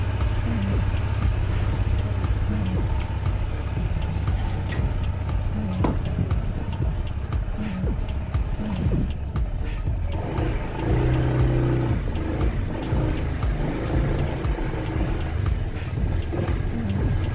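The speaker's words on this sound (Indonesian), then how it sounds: "di sini motor masih menyala" A keyless motorcycle engine idles steadily nearby while someone walks away from it, a low continuous hum with faint revving fluctuations and rustling movement throughout.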